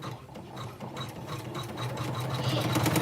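An embroidery machine runs a bean stitch in black thread, a steady fast mechanical whirring and clicking that grows slightly louder toward the end, with no talking.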